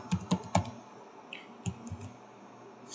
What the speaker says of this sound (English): type DHCP and hit enter